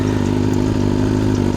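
Up close, a BMW S1000RR motorcycle fitted with a full-length aftermarket exhaust idles with a loud, even, throbbing engine note and a light mechanical clatter.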